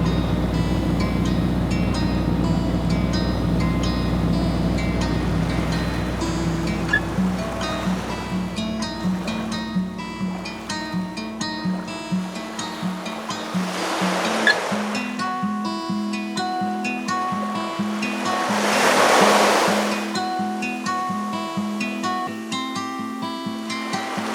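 Sea water lapping and washing around an anchored sailboat, a steady close wash with two louder swells surging, under a low continuous engine-like hum.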